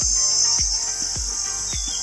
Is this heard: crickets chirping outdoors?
yes